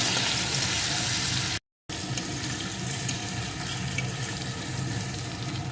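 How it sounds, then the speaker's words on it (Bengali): Ginger and garlic paste frying in a pan, a steady broadband sizzle close up with a short silent break partway through, no voices. "এখন আদা রসুনটাও ভালো করে ভেজে নেবো"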